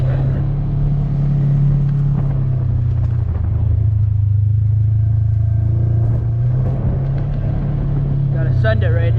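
A Polaris RZR 900 side-by-side on slick street tires drives along with a steady, loud low engine rumble and droning exhaust, pitch dipping and rising slightly as it moves.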